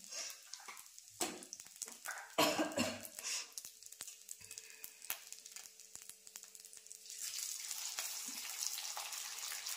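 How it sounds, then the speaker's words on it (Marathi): Rice fries in ghee over crackling cumin seeds for jeera rice: sharp pops and bursts of sizzle come up close at the start, then settle into a steadier, softer frying hiss with a few scrapes, and no one speaks. "थोडा जिरा तडतडला आणि मग भात टाकते."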